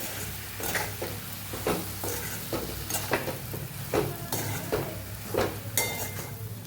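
A spoon stirs a moist puffed rice snack mixture with salt added, giving repeated soft scraping and clinking strokes against a pan at a steady rhythm over a constant background hum, with no talk.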